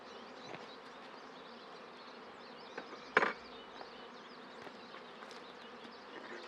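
Honey bees buzz in a steady, low drone close by, a continuous hum with small fluctuations and a single sharp knock partway through.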